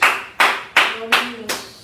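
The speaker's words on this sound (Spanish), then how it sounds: "Yo quiero darle otro aplauso al Señor." Clapping in a church service, sharp hand claps struck in unison in a steady, even beat about three times a second, close and loud, with a brief voice in the middle.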